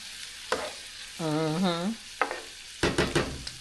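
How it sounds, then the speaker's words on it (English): I Can't Believe It's Not Butter margarine sautéing in a pan for a spinach and artichoke dish gives a steady sizzle with scattered scraping strokes and one drawn-out squeak midway. "And let that get sauteed in there."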